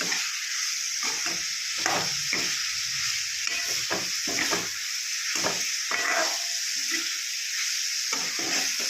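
Turmeric being stirred into broad beans in a frying pan, a steady close sizzle broken by repeated scraping strokes of a spatula in an even rhythm, with no talking.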